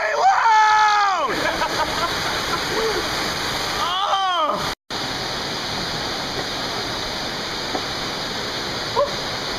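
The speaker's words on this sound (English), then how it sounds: "And the waterfalls are really loud!" Loud, roaring waterfall at McConnell's Mills, a dense continuous rush of falling water that fills the scene, briefly cutting out once midway, with faint voices and whistling tones over it early on.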